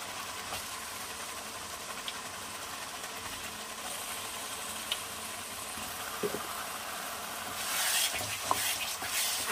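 Fried potatoes are stir-fried in a pan for aloo gobi, giving a low, steady sizzle with occasional stirring clinks and scrapes, a little louder near the end.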